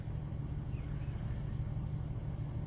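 A car engine idles with a steady low rumble, heard from inside the vehicle, constant and unchanging throughout.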